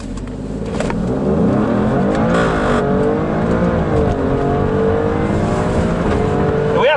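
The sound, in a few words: heavily modified Subaru Impreza engine revving while racing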